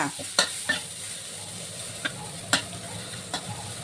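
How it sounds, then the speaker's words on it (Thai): Chili and garlic pounded together are stir-fried in a pan for a Thai shrimp-paste chili dip served with stir-fried long eggplant, giving a soft steady sizzle broken by several sharp scrapes and clacks of the spatula, close and alone. "ผัดพริกผัดกระเทียมพอหอมค่ะ"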